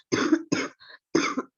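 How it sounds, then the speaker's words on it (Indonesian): A person coughs several times in quick succession during an online class, three sharp close coughs with a faint throat sound between them. "Ini batuk-batuk."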